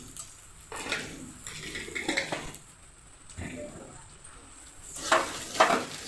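Whole spices and ground cumin frying and being stirred in a pan for a jackfruit curry with goat fat fritters, a soft sizzle under scraping and clinking of a utensil against the metal.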